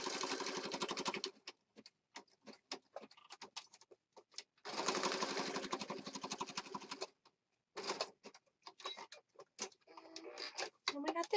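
A sewing machine stitching a junk journal embellishment, with two long steady bursts of fast needle hammering separated by pauses, presser-foot clicks and handling noises, close and loud.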